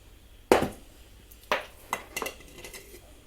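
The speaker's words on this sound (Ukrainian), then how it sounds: "Я набираю, отак чуть-чуть струшую, дві з половиною ложки солі" A metal spoon scooping salt clinks against a jar in a few sharp strikes, followed by lighter scraping and tapping, close up with no voices.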